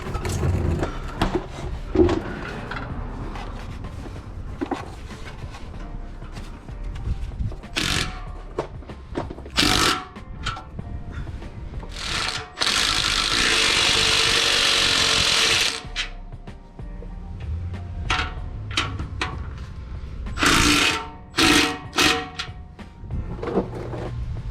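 Power tools run in short bursts while torquing down the bolts on an AWE SwitchPath exhaust fitted to a BMW M4, with a longer steady whir in the middle and clanks and clicks between bursts.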